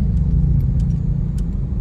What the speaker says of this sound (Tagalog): Wala pang rush hour, pero grabe na yung traffic dito sa EDSA northbound papuntang BGC